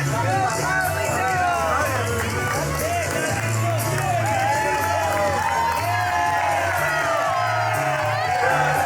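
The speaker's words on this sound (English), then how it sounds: "And listen to this crowd erupt for Carlito." A wrestling crowd at an indoor event roars and cheers for Carlito, a steady wall of loud shouting, whooping and babble that carries on unbroken throughout.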